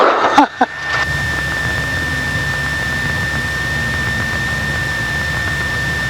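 A small airplane's engine runs on a runway after landing, a loud steady roar with a high whine over it, after a few sharp thumps at the start.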